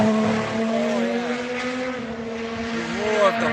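A Honda car engine driving slowly, a steady mid-pitched drone with harmonics that rise and dip as the throttle shifts, fairly close and continuous with no pauses.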